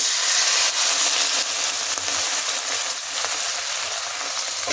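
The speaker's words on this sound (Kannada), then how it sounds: "ಇವಾಗ ನೀರು ಹಾಕೋಣ. ಹುಷಾರಾಗಿ ಹಾಕಬೇಕು, ಬಾಣಲೆ ಬಿಸಿ ಇರುತ್ತೆ." Water poured into a hot pan of fried okra sets off a loud, steady, hissing sizzle that fills the whole stretch without pause, with no voices.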